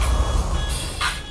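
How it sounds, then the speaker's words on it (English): An alarm going off during a game stream, heard as a thin, steady electronic tone sitting under a dense wash of background noise, fairly quiet and continuous. "Sorry for the sound, that is my alarm."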